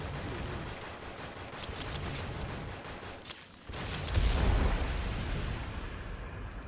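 Dense, rapid gunfire in the video game Trials Rising during a fight against the final boss, crackling volleys with a brief dip before a louder, boomier burst; no talking.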